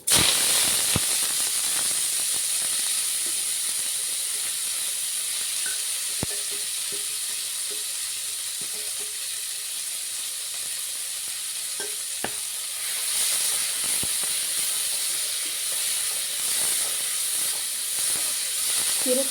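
Spinach tossed into hot oil with popping mustard seeds sizzles steadily and close by for the whole stretch, with occasional stirring clicks and scrapes over the continuous hiss.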